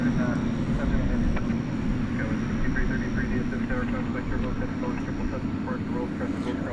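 An American Airlines heavy jet takes off from runway 18 left at DFW airport at night, a steady low, distant engine roar running continuously beneath talking.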